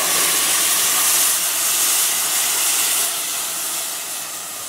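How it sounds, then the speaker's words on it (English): Chicken broth is poured into a hot pan to deglaze venison drippings for meat pies, giving a loud, broad sizzling hiss that fades gradually as the liquid settles. "And that'll just deglaze all that goodness off the bottom"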